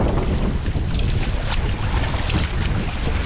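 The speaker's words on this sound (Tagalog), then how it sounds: "Lumalakas ang hampas ng alon" Waves crash steadily on a shore in a continuous loud roar, with heavy wind buffeting the microphone throughout.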